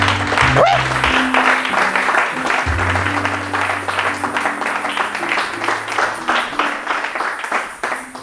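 Church congregation applauding loudly and steadily throughout, a dense sustained roar of clapping with a preacher's voice calling out over it near the start.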